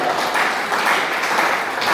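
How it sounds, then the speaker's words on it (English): Audience applause for a newly appointed teacher at a school gathering, a steady dense wash of clapping held at an even level for a couple of seconds. "Clap her, she's going to prepare next."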